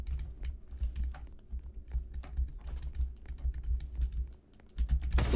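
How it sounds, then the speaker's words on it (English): Computer keyboard typing in an ASMR style: rapid, continuous clicky keystrokes, close and fairly loud, in an uneven rhythm, with a heavier thump near the end. "they do like keyboard ASMR"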